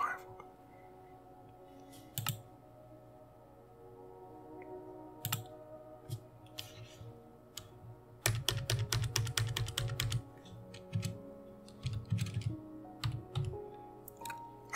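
Keys clatter on a computer keyboard during a Minecraft Java Edition hardcore survival game. Sparse, isolated clicks give way to quick close-up bursts of typing.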